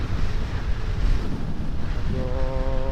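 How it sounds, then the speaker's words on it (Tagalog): Very strong wind roars and buffets steadily against a moving motorbike on a road ride through Bicol, loud and continuous, with a faint tonal hum rising near the end. "Napakalakas ng hangin, para kami tinutulak pa"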